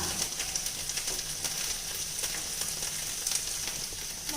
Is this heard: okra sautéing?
yes